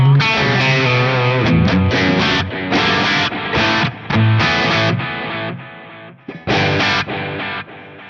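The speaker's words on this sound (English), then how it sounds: "the overdrive pedal, just an 808, and then next to it's a quarter note echo right here." An electric guitar played through an 808 overdrive pedal and a quarter-note echo gives distorted chords and riffs with short gaps and repeating echoes, loud and alone.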